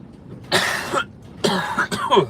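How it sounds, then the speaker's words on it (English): Three bursts of harsh coughing close to the mic, a short fit followed by two more rough coughs in quick succession. "I do have the cough today"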